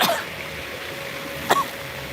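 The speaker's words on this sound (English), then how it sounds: "That's a legit cough" A single sharp cough near the start, then a second short cough or throat-clear a little later, with faint hum between them.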